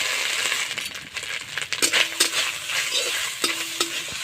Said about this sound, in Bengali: নারকেল আমি ভেজে নিচ্ছি, বাটা নারকেল